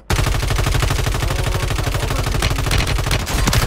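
Gunfire in a video game comes as a loud, sustained stream of rapid, evenly spaced shots like machine-gun bursts, with no pause and no talking.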